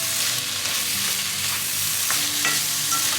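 Seafood fried black rice is tossed and stirred in a hot pan, a constant close sizzle with a few sharp utensil scrapes against the metal.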